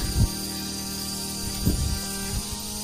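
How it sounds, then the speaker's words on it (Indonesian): Constant high-pitched cicada buzzing drones throughout, with a few soft low thumps nearby. "Ini adalah suara binatang, kalau misalkan di daerah sini namanya suara gareng."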